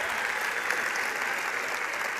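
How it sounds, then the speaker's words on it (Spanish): Theater audience applauding at the Hulu Theater at Madison Square Garden in New York during a comedy cabaret show, a dense, steady wash of clapping from a large crowd that holds evenly throughout. "El aplauso para Marco, por favor."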